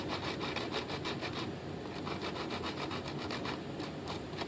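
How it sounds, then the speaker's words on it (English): Steady back-and-forth scraping of a sanding block on a small area of a model aircraft, a rapid rhythmic rasping that runs close and continuous throughout. "I'm going to take this sanding block, you know, for sanding wood"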